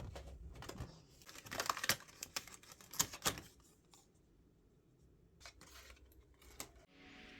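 A Cricut cutting machine slices out parts for candy treat bags with scraping, clicking and rustling bursts, busy at first, then sparser taps with quiet gaps and a soft hiss at the end, all close and without voices.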